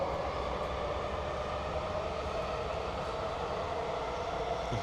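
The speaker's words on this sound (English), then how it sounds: "Life on the SkyTrain, eh?" Steady rumble and hum of a Vancouver SkyTrain car while riding, a continuous ride noise with no clear breaks and no talking.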